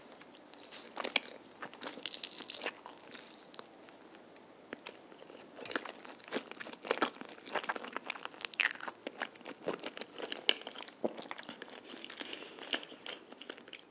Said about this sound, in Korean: 이번엔 메론맛 떡 먹어볼게요.